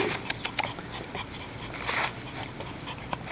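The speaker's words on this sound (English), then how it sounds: "Puppy, puppy." A Shiba Inu puppy whimpers softly and sniffs close by in short, irregular bursts of breathy snuffling and thin whines, with no talking.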